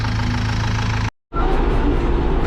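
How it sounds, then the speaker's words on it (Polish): A tractor engine runs steadily and loudly, close by, with a dense rumble that cuts out briefly and then resumes at the same level. "Wskakujemy sobie do ciągnika i lecimy w koło."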